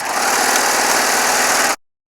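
A Baby Lock Triumph serger stitching jelly roll quilt strips together runs in one steady, loud, close mechanical hum with fast rhythmic buzzing, then cuts off abruptly, no voices.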